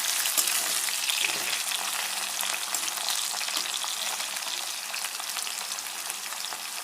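Potato pieces fry in hot oil with nigella seeds, dried red chilli and bay leaf, giving a dense, even sizzle that holds steady and close throughout with faint crackles and no talking.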